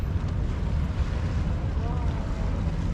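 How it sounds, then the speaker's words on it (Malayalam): A boat approaches on Dubai Creek near Al Seef, its low, steady engine rumble blended with wind buffeting and washing water for the whole stretch, fairly loud and close. "നമ്മളുള്ള ബോട്ട് വരുന്നുണ്ട്."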